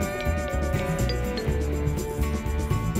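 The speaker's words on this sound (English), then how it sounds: "A little tiny detail shaper here works great for that." A tiny detail shaper carves windows into a sand castle tower, making a steady, close scraping and rasping of packed sand that runs without pause and without talk.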